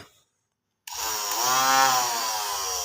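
A homemade battery-powered angle grinder starts after a moment of silence and spins up into a loud, steady, high-pitched motor whine as it begins cutting off a handle.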